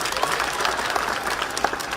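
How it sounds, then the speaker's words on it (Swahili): Audience applause at a political gathering, a dense, steady patter of many hands clapping from a crowd, fairly loud and sustained throughout. "Makofi kwake tena."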